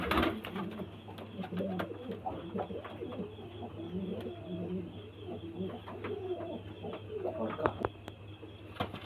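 Pigeons at a pigeon market in Bamangachi, North Barasat, cooing in soft, repeated low murmurs against a steady background hum, with some chirps and rustling.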